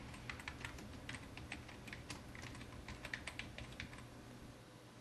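Keys tapped on a computer keyboard in a steady, uneven patter of quiet clicks throughout, fairly close, with a low hum underneath and no voices.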